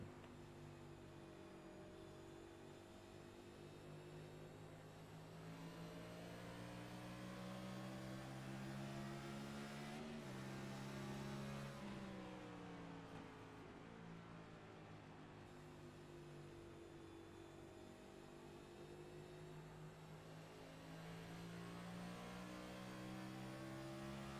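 Race car engine of the Michelob Ultra number 80 lapping New Hampshire Motor Speedway, a steady, loud onboard drone with harmonic pitch that dips and climbs through the corners, held on throttle with no talk.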